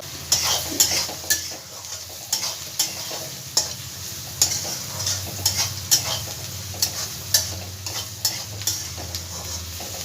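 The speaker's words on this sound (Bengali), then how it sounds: "দেখো পেঁয়াজটা আমার অর্ধেক ভাজা হয়ে গেছে।" Onions frying in a pan for a soybean curry give a continuous sizzle, with frequent light clicks and scrapes from a spoon stirring them at close range.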